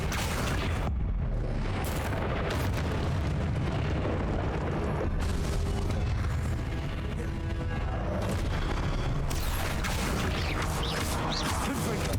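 Confringo blasting spell in Hogwarts Legacy, set off as a series of heavy explosive booms and crashes. The booms come in several loud bursts with rumbling in between, filling a long stretch of combat.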